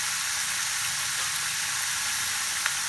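Pumpkin and potato frying in a pan with salt and turmeric, a soft, steady sizzle with faint crackles, heard alone without voices.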